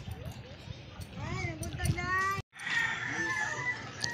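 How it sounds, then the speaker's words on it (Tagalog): Chickens cluck and a rooster crows nearby on a roadside amid outdoor ambience, with a brief dropout midway. "daming manok dito guys sa daanan"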